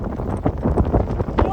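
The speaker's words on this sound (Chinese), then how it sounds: "下起了暴风雪了。" Blizzard wind gusts roar on the high Hoh Xil plateau near a 4,600-metre snowy mountain viewpoint. The rough, buffeting noise is heavy and continuous under a person speaking.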